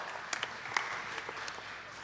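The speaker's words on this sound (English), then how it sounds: "Yeah, you can clap for that, sure." An audience at a panel discussion claps at a distance, a brief, faint patter of applause that holds fairly steady throughout.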